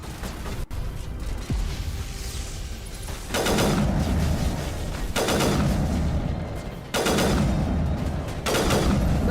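Repeated heavy gunfire in a sniper fight against Geth in Mass Effect 1, with loud sustained bursts of shots at close range and no talking.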